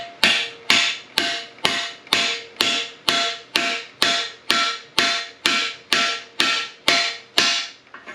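Steady hammer taps drive a case bushing into a TH200-4R automatic transmission case during a rebuild, about fourteen evenly spaced sharp metallic strikes at a regular rhythm, close and clear with no talking.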